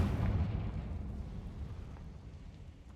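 A Confringo fire spell explodes in Hogwarts Legacy with a deep, rumbling blast that fades steadily over three seconds. There is no talk.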